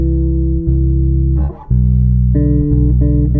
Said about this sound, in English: so I'm just playing quarter notes in the bass part.